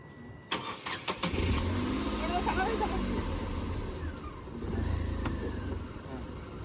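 A car engine on a driving lesson hums steadily up close, rising into a louder revving swell partway through before settling back to an even rumble.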